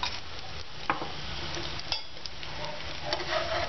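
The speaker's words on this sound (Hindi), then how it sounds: "पराठे को हमेशा तेज आंच के ऊपर ही सेकें ताकि अच्छा सा क्रिस्पी हो जाए।" Matar paratha roasting with ghee on a hot pan over high heat, a continuous close sizzle and hiss with occasional soft scrapes and taps of a utensil, no speech.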